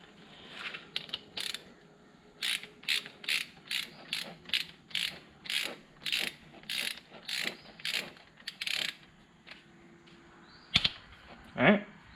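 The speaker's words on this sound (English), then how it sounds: "we're going to tighten this down to 15 foot-pounds. Set the torque wrench back down to 15." A torque wrench ratchets repeatedly while tightening a fork component to 15 foot-pounds on a 2014 Honda CRF150R dirt bike, with about a dozen evenly spaced, close, crisp clicks in steady rhythm, then a couple of louder knocks near the end.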